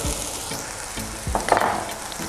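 Yogurt, red chilli and coriander powder are added to hot oil in a frying pan while making beef kofta curry. A brief, close sizzle swells as the ingredients land, with a few soft stirring scrapes and no talking.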